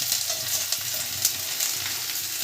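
Chopped ginger and green chilies fry in hot oil in a wok, giving a loud, continuous close sizzle with small crackling spikes and no voices.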